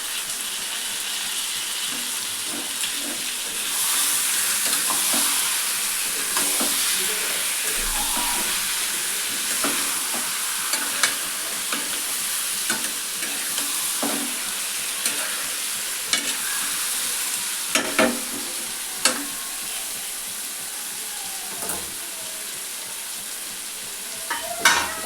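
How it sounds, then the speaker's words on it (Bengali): Chicken curry sizzling in a pan as it is stirred, a constant hiss of frying oil broken by irregular sharp scrapes and clicks of a utensil against the pan, close and steady with no speech. "এখন এটাকে নাড়াচাড়া করবো"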